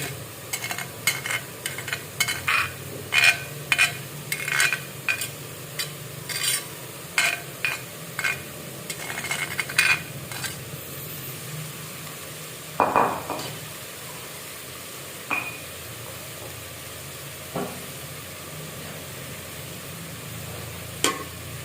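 Spices and aromatics (lemongrass, galangal, ginger, shallots, garlic) stirred in a pan, giving repeated scraping strokes in a steady rhythm over a faint sizzle, close and fairly quiet, with no talk.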